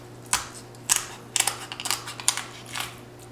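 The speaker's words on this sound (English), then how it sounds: "And just cut along the spine." A knife cuts down along the backbone of a whole chicken being prepared for smoking, giving a series of sharp, close crunching snaps and clicks spaced irregularly, with no talking.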